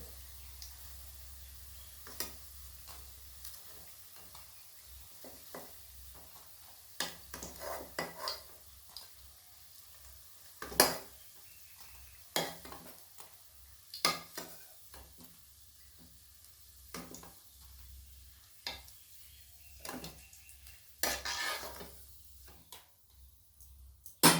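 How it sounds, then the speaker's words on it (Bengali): Cauliflower pakoras fry in oil with a soft low sizzle, punctuated by irregular clinks and scrapes of a utensil against the pan as pieces are lifted out, with no speech. "এবার আমি এগুলোকে তুলে নেব, নিয়ে বাকি যেগুলো আছে সেগুলোও ভেজে নেব এই একইভাবে।"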